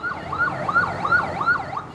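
An ambulance siren wails in a rapid, repeating up-and-down pattern on a rain-flooded, waterlogged city street in Chattogram, loud and steady throughout with no talk.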